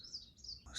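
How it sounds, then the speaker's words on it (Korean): Bird chirps by a large reservoir at a campsite near Cheongnyong Falls in Gyeongju, two or three short, faint calls in a quiet outdoor setting. "새소리도 들리고."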